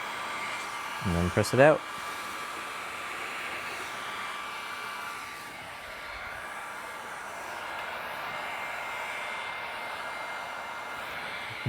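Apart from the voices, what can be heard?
heat gun heating car window tint film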